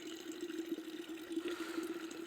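Water runs steadily from a village supply tap in a continuous, even splashing rush, close by and alone without talk.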